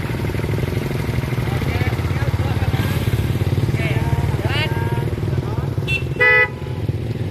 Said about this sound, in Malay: Oke, hon.